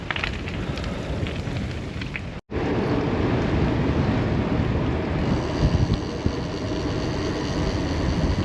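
Strong headwind while cycling uphill on the Badger Divide buffets the microphone with a continuous roaring rumble, briefly cutting out and then returning just as loud.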